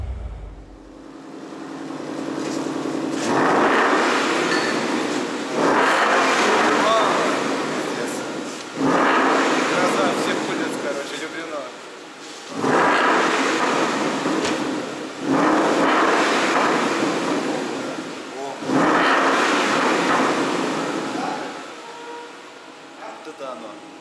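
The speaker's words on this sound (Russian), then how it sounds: "сейчас самое время запускать двигатель и слушать вместе с клиентами звук этой тачки в боксе" A Ford Mustang muscle car with a newly fitted exhaust is started and revved in a garage bay, producing several loud sustained revs separated by short drops back to a lower idle-like rumble.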